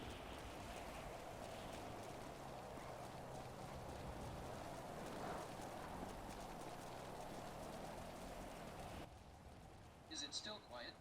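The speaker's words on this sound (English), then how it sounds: "It's hard for me to tell over the rain." Steady rain falls in GTA V NoPixel roleplay, a dense continuous hiss filling the background for most of the stretch before cutting out near the end, leaving a few brief faint noises.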